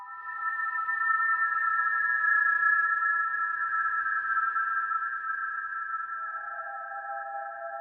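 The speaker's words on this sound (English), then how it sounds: "All of a sudden you have this great sci-fi pad just from whistling." Sustained whistled tones smeared into a long, shimmering reverb wash, forming a steady sci-fi pad that holds for several seconds before shifting lower near the end.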